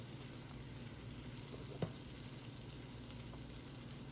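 Chopped green chili frying in a pan of oil while making vegetable instant noodles, a steady soft sizzle with one brief clink partway through and no talking.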